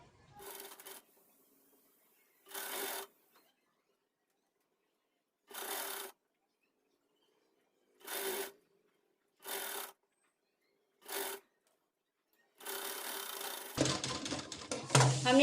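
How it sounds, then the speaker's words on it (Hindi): A sewing machine stitches a folded one-inch fabric strip in short separate bursts of rapid mechanical whirring with silent pauses between runs. It is close and clear, and some handling noise follows at the end. "इसे हम इस तरह से फोल्ड करेंगे और यहाँ पे स्टिच लगा लेंगे।"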